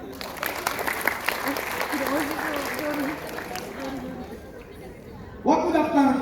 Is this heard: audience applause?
yes